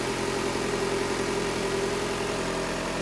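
A 2016 Jeep Cherokee's 2.4-liter four-cylinder engine idles steadily and close by, with a constant low hum and a faint whine and no voices, holding level for the whole stretch.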